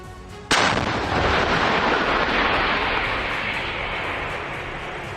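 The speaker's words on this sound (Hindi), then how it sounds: "यूक्रेन ने हॉवित्जर तोपों से रूसी सेना पर जोरदार वार किया।" A single heavy howitzer blast booms suddenly, followed by a long, rolling rumble that slowly fades.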